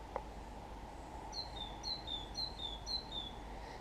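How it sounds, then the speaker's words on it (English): A blackbird sings in a spring garden in Wirral, a series of clear whistled phrases at moderate distance over a low steady outdoor hum, with no talking. "You hear the blackbird?"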